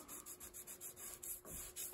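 Rough sandpaper rubs back and forth across the wood of an 1867 Chickering 33B piano in quick, regular scraping strokes, faint and close up.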